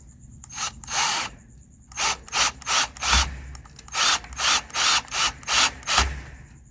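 Short screws driven into a Kwikset deadbolt lock, heard as a run of about ten quick, loud, close whirring bursts of a power driver with brief pauses between them and no talking.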